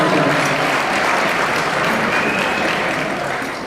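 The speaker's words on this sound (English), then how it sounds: "give her another round of applause" A crowd gives a round of applause for a staff member at an evening event, the clapping loud, dense and steady before tapering slightly at the end.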